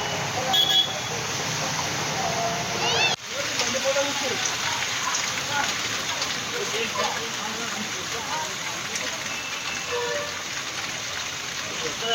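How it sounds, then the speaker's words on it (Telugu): Heavy rain falling in Tandur, Vikarabad district, makes a loud, dense, continuous hiss of downpour that stays steady throughout without a break. "వికారాబాద్ జిల్లా తాండూరు పరిగిలో భారీ వర్షం కురిసింది"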